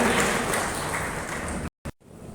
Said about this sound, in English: Please join me with giving her a round of applause to Mrs. Pungodai Aladi Aruna